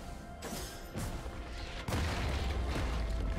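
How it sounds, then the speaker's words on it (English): Explosive boom of a turret being destroyed in League of Legends, with a few loud bursts and a heavy crash near the end over continuous game noise. "Blue team's turret has been destroyed."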